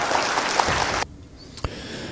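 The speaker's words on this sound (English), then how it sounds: "We'll give Dale a little bit of an applause on that one." Brief burst of audience clapping after a shot in a pool challenge match, lasting about a second before cutting to a quiet room with a single soft knock.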